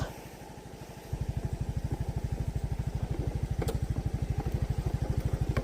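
A Yamaha Mio Gravis motor scooter engine on an off-road trail, starting up and then running with an even, rapid thumping pulse, close and steady.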